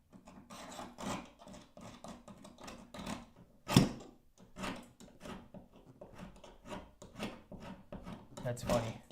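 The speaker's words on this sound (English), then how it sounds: "I'm using to effectively hand scrape all this crap out" Someone hand-scrapes old material out with a hand tool, producing irregular scratchy rasps and rubbing strokes, close and intermittent, with one sharp knock partway through and talking between the scrapes.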